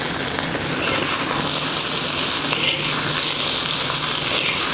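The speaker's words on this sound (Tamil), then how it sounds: "அதனால் எல்லாத்தையுமே போட்டு நம்ம வந்து ஃப்ரை பண்ணிக்கலாம்." Raw banana slices coated in ground chilli masala fry in a pan, making a loud, dense, continuous sizzle close up, steady throughout, with no speech.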